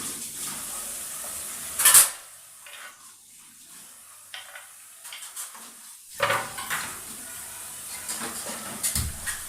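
Chopped onions go into a pan of cumin: a sharp metal clank, a brief hiss, then quiet, followed by more utensil scrapes and clatter against the pan with faint sizzling.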